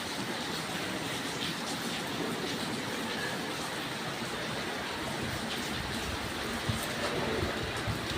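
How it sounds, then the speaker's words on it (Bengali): Steady, dense rain pattering and splashing close by as it falls directly onto a balcony and into a room, a continuous broadband wash with no pauses and no voices. "ঘরের মধ্যে বৃষ্টি কী সুন্দর করে ঝপঝপ করে পড়তেছে"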